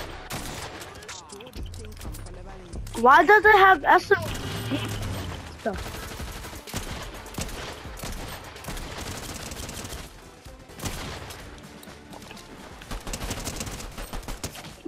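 Rapid bursts of gunfire from a weapon in the Fortnite video game, with a dense volley early on followed by scattered shots and mechanical clicks, heard under a player's talk.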